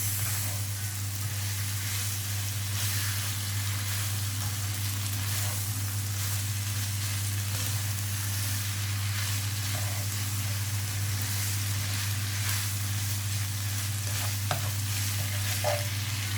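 Pasta stirred in a sizzling pan with tomato ketchup: steady frying hiss with rhythmic scraping stir strokes over a constant low hum, close and even, no voices.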